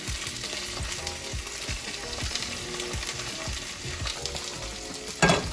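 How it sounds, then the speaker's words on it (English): Chicken for chicken marsala sizzles steadily in a hot pan, crackling and popping continuously, with a brief clatter near the end. "as the chicken's frying"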